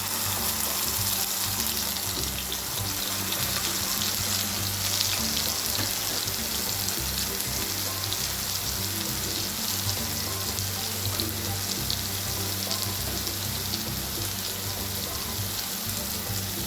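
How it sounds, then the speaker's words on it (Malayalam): Ground onion paste frying in coconut oil in a pan, a steady loud sizzle and crackle that runs unbroken from start to finish with no voices. "ഈ ഉള്ളി അരച്ചത് ഇട്ട് കൊടുക്കുക."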